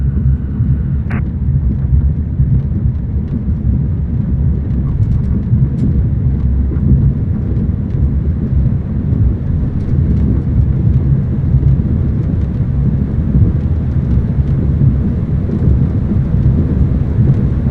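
A tug plane engine roars steadily and loudly throughout a takeoff in Microsoft Flight Simulator during glider towing, a dense continuous rumble with no talk.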